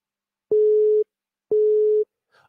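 Engaged busy tone on a Portuguese phone line: two loud, clean half-second beeps spaced a second apart, alone with nothing else on the line.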